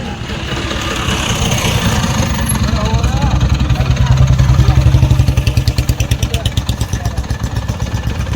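A tractor engine idles close by with a low, steady rumble that settles into distinct rhythmic chugging pulses toward the end, while people talk over it.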